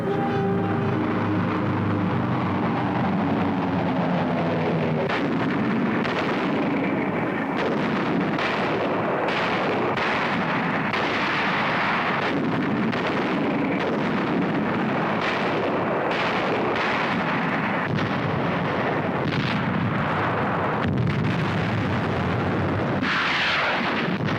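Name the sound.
bombardment of Iwo Jima, artillery explosions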